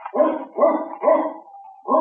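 A dog barks in a rhythmic series of loud, close, yelping barks, then lets out a thin whimper before barking again.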